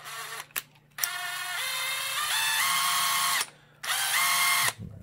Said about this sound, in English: nothing compares to putting them on a power tool